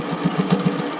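A home sewing machine back stitches at the neckline of an 80s sailor shirt, giving a short close burst of rapid, evenly spaced mechanical thumps over a low motor hum.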